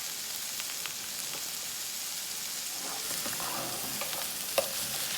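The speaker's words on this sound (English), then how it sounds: "I'm just going to give this a little stir, just to make sure nothing is sticking" Frozen Aldi chicken lo mein stirred in a sizzling frying pan, with steady crackling and hissing oil plus soft scraping and clicking of a utensil against the pan, close and continuous.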